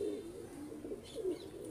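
Low, soft pigeon cooing in a repeated throaty rhythm, close and fairly quiet, with faint background noise.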